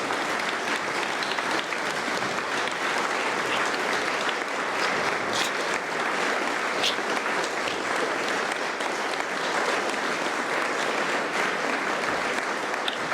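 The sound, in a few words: audience applause at a book launch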